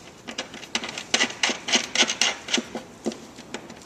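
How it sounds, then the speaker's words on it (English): Metal nut being screwed onto a bolt by hand while assembling a Pawhut wooden backyard hen house chicken coop, with close, irregular scraping and rubbing clicks in short bursts. "you just take and screw on your nut"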